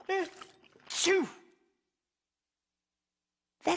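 Henry, a cartoon character, lets out a big sneeze as a voiced burst, loud and close, following a short vocal sound, then silence before another brief voice.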